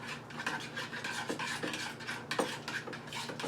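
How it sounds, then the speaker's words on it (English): Egg white being stirred into yogurt with a spoon against a bowl, a steady close scraping and clinking that runs throughout with small rhythmic taps and no talking. "I want to stir this up good"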